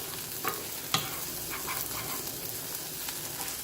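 Onions frying in a pan, a steady soft sizzle with a couple of sharp utensil clicks and stirring scrapes near the start, close and fairly quiet.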